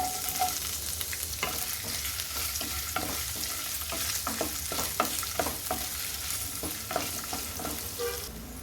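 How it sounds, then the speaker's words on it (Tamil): Ginger garlic paste and capsicum fry in hot oil in a kadai, a continuous close sizzle with repeated spatula scrapes and taps at an irregular pace over several seconds. "எண்ணெய் சூடானதுக்கப்புறம் இதில் இஞ்சி பூண்டு பேஸ்ட்டு, பாதி கேப்சிகம் சேர்த்துக்கிறேங்க"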